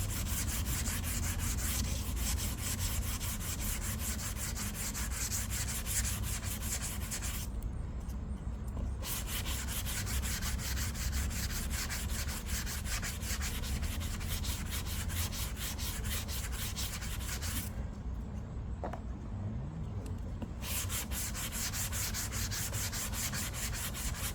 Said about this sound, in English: I just use this spray glue on sandpaper and this. Let's see here. So starting to sand.